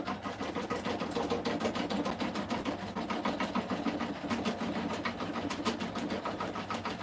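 An embroidery machine stitches a gingerbread design, making a fast, steady mechanical chatter with rhythmic needle ticks that carry on evenly up close.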